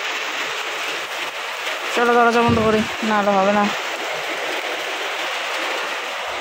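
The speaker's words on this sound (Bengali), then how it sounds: "জোরদার বৃষ্টি নেমে গেছে এবার, মানে জোর দিয়েছে এখন বৃষ্টিতে।" Heavy rain pours in a dense, constant roar, loud and close, while someone speaks briefly partway through.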